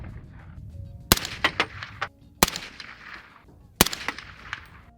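Three sharp rifle shots fired at a target about 250 yards out, evenly spaced, each a loud crack followed by fading echo over outdoor background noise.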